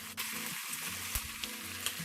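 Chili added to a hot pan fries with a steady, faint sizzle and crackle, broken by a few sharp pops and spatters.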